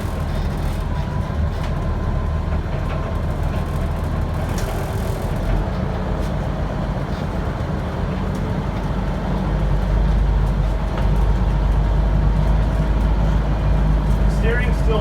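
An old Peterbilt 359 truck, just restored, drives along with a steady low diesel engine rumble and road noise that grows slightly louder partway through, heard from inside the cab.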